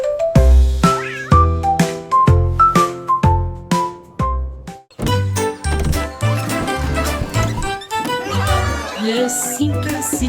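Cat meows sound within a French children's nursery song, repeated short mews over a bouncy musical backing with sung vocals.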